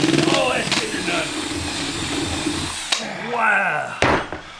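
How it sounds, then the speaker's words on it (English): A power tool whirs and grinds through a Halloween pumpkin, a steady, loud buzz for about three seconds, then shorter bursts. Voices cheer and talk over it. "they're going to build pumpkins with power tools"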